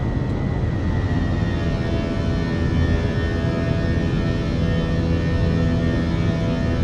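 Airbus A321 engines in the Fenix A321 flight simulator spooling up to climb thrust, a steady, loud jet roar with a sustained tonal whine throughout.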